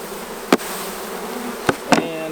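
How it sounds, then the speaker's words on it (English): Honeybees swarm during a hive removal, a dense, continuous buzzing drone close by, broken by three sharp knocks or bumps. "I had a whole plate full of bees."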